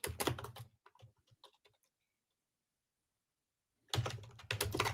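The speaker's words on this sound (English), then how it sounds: "I'm typing it out." Typing on a computer keyboard: dense bursts of key clicks at the start and end, with a few sparse taps and a quiet pause in between.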